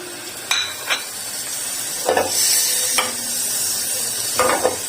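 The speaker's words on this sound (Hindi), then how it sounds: "पैन ले लिया, उसमें मैं मक्खन डाल दूंगी" Butter sizzles and hisses in a pan at moderate volume while melting for a dal fry tempering, broken by a few sharp clinks and scrapes of a utensil against the metal.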